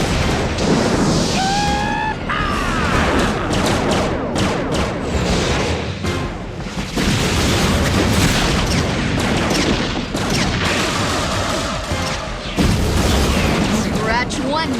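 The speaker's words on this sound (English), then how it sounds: "All ships, open fire!" Animated space battle with starships opening fire, dense bursts of weapon blasts and booming explosions layered over urgent voices and a dramatic score, loud and continuous throughout.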